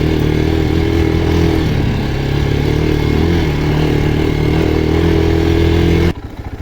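A Geon X-Road Light 250 motorcycle ridden off-road through ravines, its engine droning loud and steady with clattering and scraping close by, then cutting abruptly to quieter rumble near the end.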